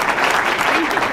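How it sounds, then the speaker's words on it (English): Applause for Senator Warnick at a governor's bill signing, a short burst of clapping from the gathered crowd, with voices mixed in over the clatter. "A round of applause for Senator Warnick."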